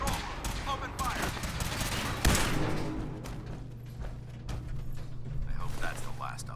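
Heavy video game gunfire in Fallout 4, a dense fusillade with one sharp loud crack near the middle and mechanical clatter, with battle chatter mixed in throughout.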